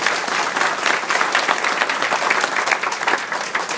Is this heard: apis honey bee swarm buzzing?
no